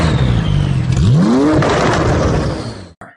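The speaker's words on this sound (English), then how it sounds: "It's the Porsche 911 Turbo S." Porsche 911 Turbo S sports car engine revs hard, a loud close roar whose pitch sweeps upward mid-burst and then settles into a sustained whir before cutting off abruptly.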